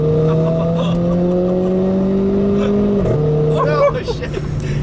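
A Renault Clio RS 220 Trophy hot hatch engine drones at steady revs from inside the cabin, then drops pitch on a downshift before a sharp burst of revving near the end.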